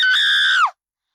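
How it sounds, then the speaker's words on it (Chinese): A woman in a horror drama lets out a single long, piercing scream, sustained and loud before bending downward and cutting off abruptly into silence. "其中一个女人突然发出撕裂般的尖叫"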